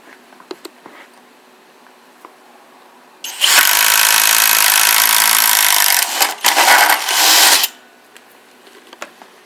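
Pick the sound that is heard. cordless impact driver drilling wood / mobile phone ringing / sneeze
cordless impact driver drilling wood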